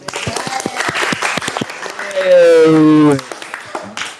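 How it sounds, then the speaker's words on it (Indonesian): A classroom of students claps for a classmate, a burst of dense applause that swells midway under a sustained chorus of voices and then fades back to scattered claps. "Silakan tepuk tangan untuk Yohan"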